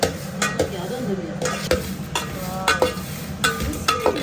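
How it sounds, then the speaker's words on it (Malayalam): Dried prawns dry frying in a pan in a Kerala home kitchen, stirred with a utensil that scrapes and clinks against the metal every second or so over a steady background sizzle. "ഉണക്ക ചെമ്മീൻ ഡ്രൈ ഫ്രൈ"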